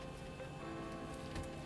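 Steady light rain patters in X-Plane 11 with a Zibo 737-800 cockpit setting, a continuous soft hiss of drops on the airframe under a low engine and systems hum, no talking.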